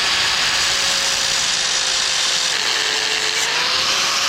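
A power tool blade grinds steadily into the crankshaft timing gear of a Nissan 300ZX during a timing kit job, a loud, continuous high-pitched whine with a faintly wavering tone and no talk.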